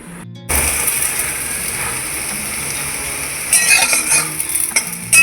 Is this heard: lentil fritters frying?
yes